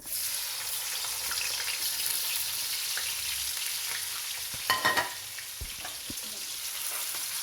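Chopped onions frying in hot oil for beef keema give a steady, loud sizzle with scattered crackles and a brief burst of spattering midway, with no voices.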